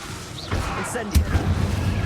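Incendio fire spell cast in the game Hogwarts Legacy, a soft rising whoosh capped by one sharp, punchy burst near the middle, followed by a low rumbling tail under background game sound and a faint voice.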